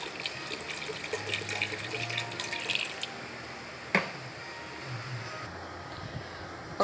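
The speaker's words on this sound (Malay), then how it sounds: "masukkan sedikit air dalam kita punya blender ni" Water trickles and splashes into a blender for a few seconds, followed by a quieter stretch with a clunk and faint dripping.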